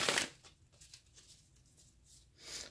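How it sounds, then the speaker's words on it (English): Tarot cards being shuffled by hand in a quiet room, giving soft papery riffles and light patter at the start and end, with quieter rustling between. "let's shuffle your cards and see what energy is out there for Sagittarius"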